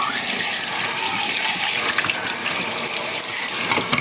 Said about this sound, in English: let's rinse this off in the sink with some warm water